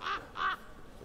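Crows caw from the soundtrack of the film The Birds: two clear, harsh calls in quick succession, fairly close, then quiet.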